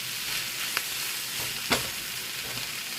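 Sausage and peppers sizzle steadily in a pan for a fajita-style sausage hoagie, a continuous close frying hiss broken by a couple of brief stirring clicks.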